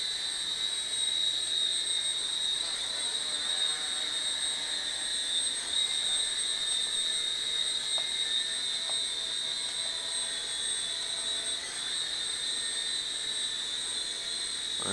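A Sky Viper X-Quad quadcopter drone hovers, its rotors making a steady, high-pitched buzzing whine that holds even and loud throughout.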